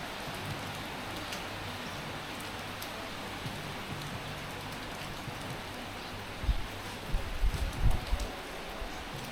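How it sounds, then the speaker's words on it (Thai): Rain falls steadily through mist on a clifftop at Phu Thap Boek, a dense, even patter with a few louder knocks near the end and no voices. "ทั้งหมอกทั้งฝนรวมกันอ่ะ"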